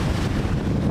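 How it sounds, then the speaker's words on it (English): Strong wind at sea buffets the deck of a sailing boat moving through whitecaps after a gale, a loud, brief rushing roar with no talk. "still very windy."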